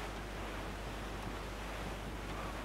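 Wind and ocean waves at sea while sailing a ship under full sail in Assassin's Creed 4 Black Flag, a steady broadband wash of surf and gusting wind with no pauses, moderately loud and alone.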